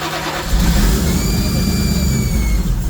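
Supercharged 383 engine in a third-generation Camaro IROC-Z running loud and close with a rough, unsteady idle, a low rumbling drone with a blower whine on top, continuous throughout.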